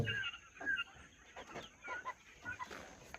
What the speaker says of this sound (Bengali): এই যে এখানে হচ্ছে দেশি মুরগি যেগুলো আছে